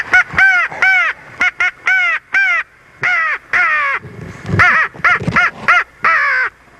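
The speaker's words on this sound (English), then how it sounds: "Those are fish crows." Fish crows in Georgia call loud and close in a rapid series of short nasal caws, a dozen or more repeated calls in clustered rhythm with no talking.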